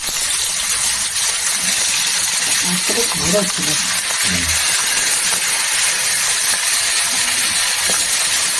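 Bata fish frying in a little oil for a mustard curry, a steady loud sizzling hiss throughout with a few soft knocks and a brief murmur of voice in the middle.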